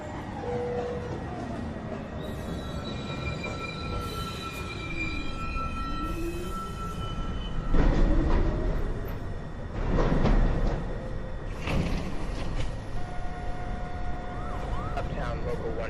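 A New York City subway 1 train at 207th Street station, a steady rumble of train and platform noise with sharp squealing tones, louder surges around the middle, and automated announcement-like sounds in the background.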